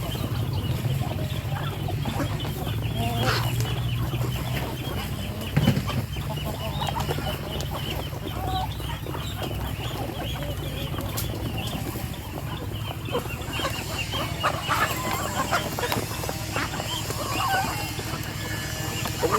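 Chickens cluck and chatter continuously while being fed rice in a backyard, a busy flock close by with overlapping calls over a low steady background hum.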